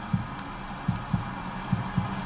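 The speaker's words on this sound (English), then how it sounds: "You hear that? Little heartbeat." A car's driver-scanning system plays back a heartbeat as soft, low thumps spaced unevenly over a steady background hum, with no voices.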